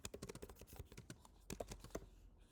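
Rapid, uneven keystrokes on a computer keyboard during coding work, clicking close and fairly quiet in irregular bursts with no talking.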